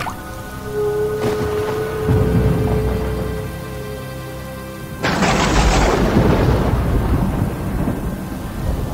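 A thunderstorm on a monsoon night: rumbling thunder over steady rain falling on surfaces, swelling into a loud, noisy crash partway through and then continuing as a heavy downpour with no voices.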